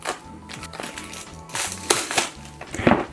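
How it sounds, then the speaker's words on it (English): Plastic shrink wrap is torn and peeled off a tavern kit game box, giving crinkly bursts of crackling and rustling with sharp snaps, close and fairly loud, with no talk. "Let's remove the shrink wrap."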